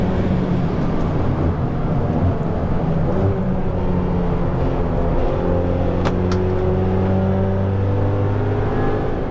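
A Dallara Stradale sports car driving on the Monza circuit, its engine a steady, loud drone with sustained tonal lines and wind noise throughout, heard from inside or close by without any voices.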